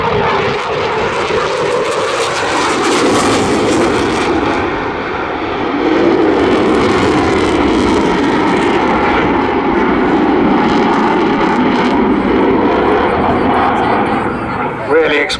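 A Eurofighter Typhoon FGR4 jet roars loudly and continuously through a high-speed barrel roll at a seaside airshow, its engine rising and swelling as a commentator talks over it.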